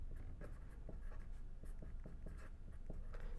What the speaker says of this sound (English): Write down the value here.